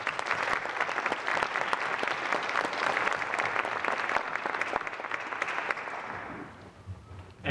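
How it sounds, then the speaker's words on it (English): Audience applause at a school foundation Hall of Fame induction ceremony, sustained dense clapping from a crowd that holds steady and then tapers off toward the end. "Let's give these incredible sponsors a round of applause as well."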